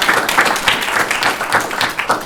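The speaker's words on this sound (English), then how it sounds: "Have a round of applause for members of the team" Seminar audience applauding team members at a chemical safety and emergency responders event, a dense, close round of clapping with rhythmic bursts, steady and loud from start to finish.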